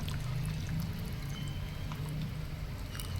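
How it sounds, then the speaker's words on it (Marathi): Water from a pressure cooker pours into a pot in a soft, steady stream, quiet and unbroken for a few seconds, with no talking. "हे आपण कुकरचे पाणी टाकू शकतो"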